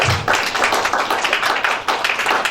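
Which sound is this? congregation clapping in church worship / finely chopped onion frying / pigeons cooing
congregation clapping in church worship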